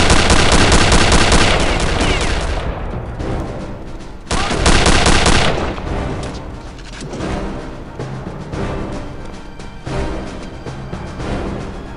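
Heavy automatic fire from a power weapon in Return to Castle Wolfenstein, loud and sustained, with a long rattling burst, a brief pause and then further continuous volleys.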